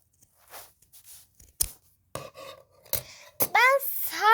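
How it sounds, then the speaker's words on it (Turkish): Scissors cut a slit through the middle of craft material for doll furniture, giving a few short, close snips and rasping cuts separated by brief pauses. "Şimdi ortadan şöyle bir kesik atalım."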